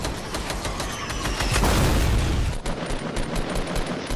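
Rapid video game gunfire crackles in dense, continuous bursts with a louder booming stretch in the middle, close and loud with no talk over it.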